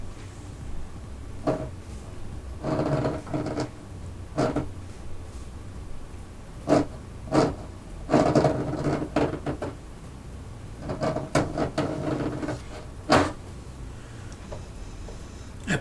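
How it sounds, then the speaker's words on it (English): Human fingernails scratch into a wooden door in a series of irregular scraping and rasping bursts, some close together, others spaced apart, with no talking over them. "The sound of human nails"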